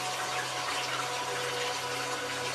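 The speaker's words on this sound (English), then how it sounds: "The sheets where the water spreads thin and strikes the basin." Water from a desert oasis fountain pours and splashes steadily into a stone basin, a close, dense, unbroken rushing wash with a low steady hum beneath and no pauses.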